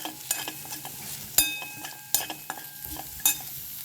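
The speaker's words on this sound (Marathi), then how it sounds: "छान याला फ्राय करून घेऊया." Ginger, garlic, green chili and sesame seeds fry in a pan with a steady sizzle, broken by sharp scraping stirs and clinks of a utensil against the pan at irregular intervals.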